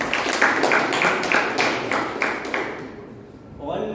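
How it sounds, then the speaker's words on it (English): A handful of people clap for a speaker at a Toastmasters club meeting, a steady rhythmic series of claps that fades out after about three seconds, followed by a voice starting to talk. "Big round of applause."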